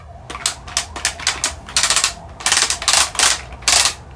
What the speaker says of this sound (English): Makes a lot of really cool clicking noises.